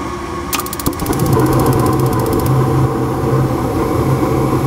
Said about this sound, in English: Here goes the inducer motor.